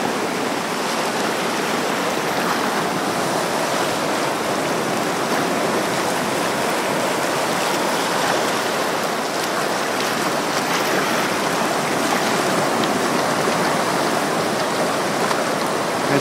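Ocean surf on the lava-rock coast at Naalehu, Hawaii roars as a dense, continuous wash of water noise, steady and fairly loud throughout with no talking.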